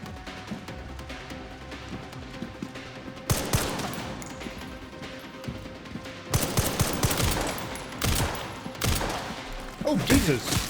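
Rapid bursts of gunfire in Resident Evil Requiem rattle in fast succession, loud and close, with several sharp shots and a voice speaking over them.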